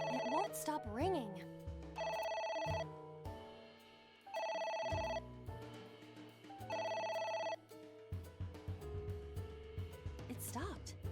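A telephone rings in the video game Ai: The Somnium Files, sounding in repeated bursts with short gaps between them, while speech and game sounds play around it.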